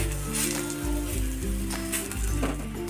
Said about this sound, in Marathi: एक एक पान घ्यायचं हातावरती आणि पॅनमध्ये टाकून घ्यायचं वरून असं प्रेस करायचं